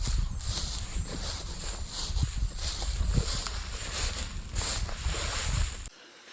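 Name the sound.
350 ATV four-wheeler engine pulling a hay rake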